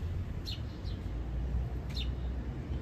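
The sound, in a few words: birds chirping in the morning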